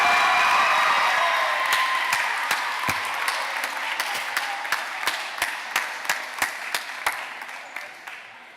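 An audience at a middle school basketball league launch event applauds in a dense wash of clapping that slowly thins out, leaving a few distinct, rhythmic individual claps at the end.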